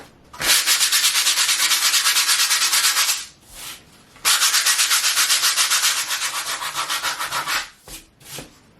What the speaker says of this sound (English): So the first thing I'm going to do is try to sand as much of that off as possible.